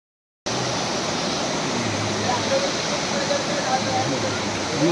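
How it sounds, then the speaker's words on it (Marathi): Water rushes steadily from a stream or spring at a roadside breakfast stop, a constant broad hiss that starts abruptly and stays even and fairly loud. "बघू शकता इथं पाण्याचा सोर्स आहे"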